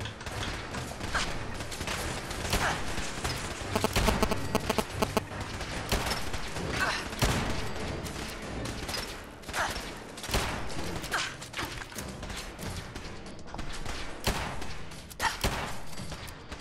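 Gun turrets firing in Fallout 4, a dense run of sharp repeated bursts and thuds with mechanical clatter, loud and close, with a voice talking intermittently over the fire.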